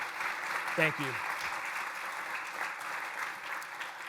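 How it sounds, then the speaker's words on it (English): Applause from a summit audience during opening remarks, a moderate, steady patter of clapping throughout, with a short spoken phrase early on. "If we could give them a round of applause."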